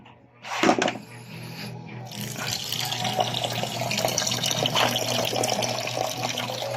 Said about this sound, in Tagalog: Kumukuha ng tubig.